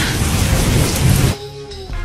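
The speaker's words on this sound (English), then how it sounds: "I didn't expect it to rain today" Steady, loud rain hisses for over a second, then cuts off abruptly into a quieter lull before returning briefly at the end.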